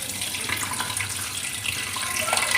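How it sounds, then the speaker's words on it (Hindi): Water pours into a pressure cooker holding two kilograms of beef for nihari, a steady rushing splash that builds slightly louder toward the end. "अब साथ के हम इसमें डालेंगे पानी।"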